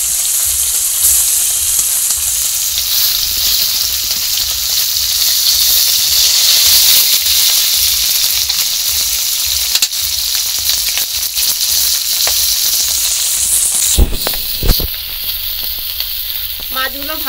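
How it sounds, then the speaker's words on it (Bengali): Potol fish frying in hot oil in a pan at an outdoor cooking spot, giving a loud, steady, close sizzle and hiss that runs unbroken, with a few brief knocks near the end. "আমি পটল মাছগুলো প্রথমে ভেজে নিচ্ছি।"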